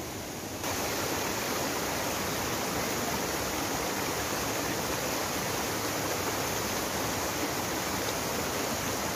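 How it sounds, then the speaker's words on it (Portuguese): A small tributary stream rushes steadily into the Macacu river, a dense, continuous close-up flow of water with no voices. "Ali, ó, tem mais um afluente. Ó, Mais um riacho bom. Vai descer aqui junto com esse."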